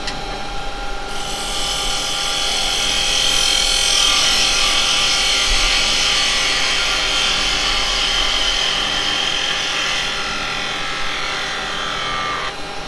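A drill bit grinds steadily into wood, a continuous loud whirring that starts after a short pause and holds for the rest.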